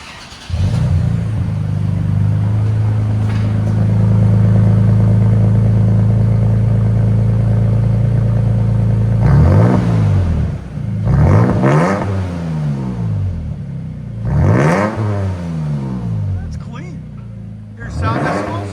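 A 2023 Toyota Tacoma TRD with a 3.5L V6 and Carven TR-Series exhaust, stock muffler cut off, idles loudly then revs in several sharp, rising bursts that fall away, close and prominent.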